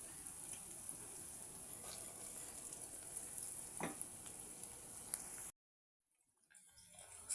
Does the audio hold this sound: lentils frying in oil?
yes